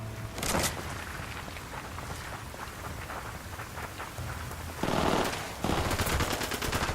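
Automatic gunfire in a Ghost Recon Wildlands firefight against enemies, with steady rattling bursts and louder sharp volleys near the end, at close range and without talk.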